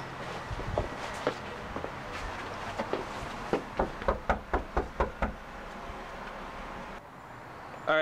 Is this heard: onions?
no